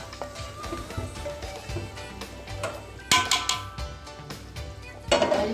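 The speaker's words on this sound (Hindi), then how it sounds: "मैं उस पतीले में पाए के साथ इसको मिक्स कर देती हूँ" Fried masala stirred into beef paya in a large cooking pot, with a spoon scraping and clinking against the metal in irregular strokes and two sharper, louder knocks near the end, close by and with no talking.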